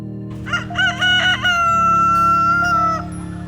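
A homestead rooster crows once up close, a loud drawn-out call with a steady low hum running underneath.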